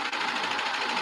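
A sewing machine stitches baby leggings fabric in a continuous, dense mechanical whir that is close and steady for the whole stretch, with no pauses.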